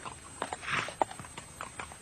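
Hooves of a mounted police escort clip-clop on hard ground in a brief, uneven patter, close by, with a soft snort or whinny among the steps.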